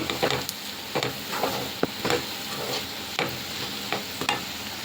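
A spatula stirs spice powder into potato rice in a pan, making repeated scraping strokes that come in uneven bursts over a soft, steady sizzle, close and at moderate volume with no talking.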